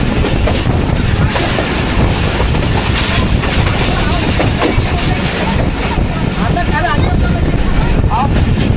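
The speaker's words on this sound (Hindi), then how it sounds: "एक रोड को स्किप कर रही है हमारी ट्रेन इस टाइम।" Shah Hussain Express passenger train running between Karachi and Lahore, heard from onboard as a loud, constant rumble with rhythmic clickety-clack of wheels on the rails and faint squeals.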